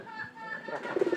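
Pigeons coo in a few soft, low, rounded bursts near the end of a short stretch, with a voice talking faintly beneath.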